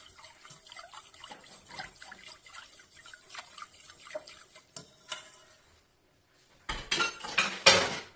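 Metal utensil clinking and scraping in a pot while mango and leche gelatine dessert mixture is stirred, a string of small irregular taps and clatters, then a short pause and a louder burst of clanking near the end.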